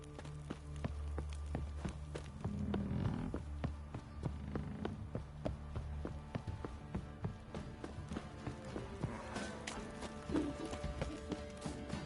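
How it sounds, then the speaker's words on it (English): Video game horses walking, a faint, rhythmic clip-clop of hooves plodding steadily over ground for the whole stretch, with occasional scuffs and soft background ambience. "Time to water the horses."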